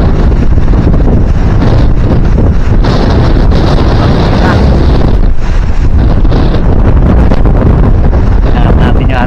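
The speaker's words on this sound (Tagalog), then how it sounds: "Sobrang lakas ng hangin." Strong typhoon wind roars by the sea near a boat, buffeting the microphone in a loud, unbroken rush with surges and gusts throughout.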